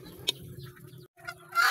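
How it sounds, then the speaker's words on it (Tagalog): Chickens clucking in the background near an outdoor grill where pandesal is being toasted, a brief sharp cluck standing out early, with quieter clucks continuing around it. "Kasaba ba sa aning manok oy?"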